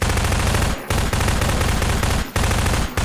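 Sustained SMG automatic fire in a Garry's Mod survival map, a loud continuous rattle broken by three brief pauses as bursts stop and restart.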